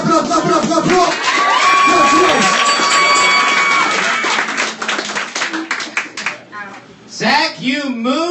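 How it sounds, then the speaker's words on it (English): Audience at a live roast comedy tournament clapping and cheering, a burst of crowd applause mixed with whoops, partly under an announcer's amplified voice, with more talk as it fades. "Ladies and gentlemen, clap it up, clap it up, clap it up"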